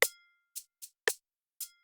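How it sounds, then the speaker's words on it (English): Bell loop for a worship track, programmed in a DAW: five separate bright bell strikes ringing out and decaying quickly, spaced unevenly with silence between them, alone and fairly quiet. "So the next thing I want to do now is to bring the bell in."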